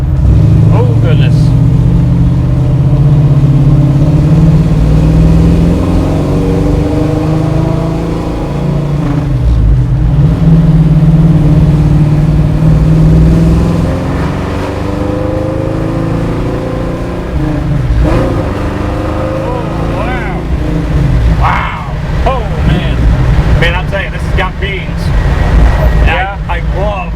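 A 1968 Chevrolet Camaro SS with roughly 500 horsepower rumbles and pulls hard while driving, its deep engine note rising and falling steadily throughout, with cabin noise and occasional talk underneath.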